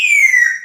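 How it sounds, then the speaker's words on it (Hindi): A grey parrot named Cherry whistles a kite-like call: one clear, high, tonal note gliding slowly downward over less than a second, fairly loud and alone with no talk. "चील ऐसे बोलती है।"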